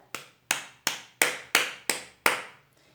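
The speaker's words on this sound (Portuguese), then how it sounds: "Nós temos a palma estalada." Seven sharp, snapping hand claps of the palma estalada type, played close and evenly spaced about a third of a second apart, each crisp crack decaying quickly into quiet.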